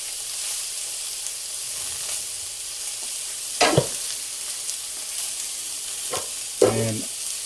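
Onions fry in a pan on a stove at medium-low heat, giving a steady, close hiss of sizzling throughout, broken a few times by brief stirring scrapes.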